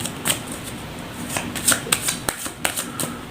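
Tarot cards being shuffled by hand, a run of crisp riffling flicks and soft slaps in an uneven rhythm, close and fairly quiet, with no voice.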